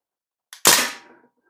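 A single sharp shot from a Crosman A4-P CO2 blowback BB machine gun, a quick crack with a short mechanical snap just before it, then a brief decay in a quiet outdoor setting.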